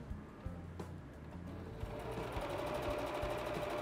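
A sewing machine stitches close by on a fabric ballet flat shoe, its quick rhythmic needle thumps and motor whir running steadily and growing slightly louder over a few seconds.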